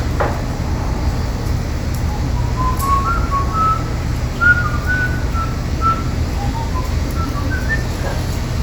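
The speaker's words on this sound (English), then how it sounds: "I can distract them with whistling and funny noises" Thin, wandering tones of a person whistling, faint and somewhat distant, drifting over steady background rumble and hiss from nearby machinery or traffic.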